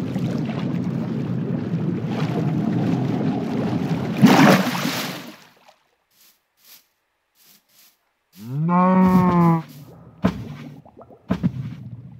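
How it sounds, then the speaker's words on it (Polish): Cows moo in a Minecraft swamp, a loud game ambience fading out before a clear, drawn-out moo and a few short clicks. "Tam są krowy."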